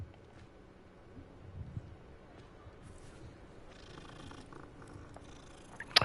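Cat purring in the wizarding-world game Hogwarts Legacy, a low steady rumbling purr close by, with faint ambient game sounds and a brief sharp noise at the end.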